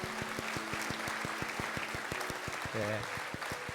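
A church congregation applauds in thanks during a Sunday service, steady clapping under a rhythmic background tapping and a faint tonal hum, with some voices mixed in.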